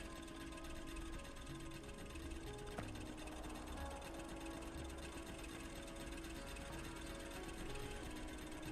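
A mining drill running in Factorio, a steady mechanical whirring and chugging drone with a faint repeating rhythm, constant and moderately loud throughout with no talk.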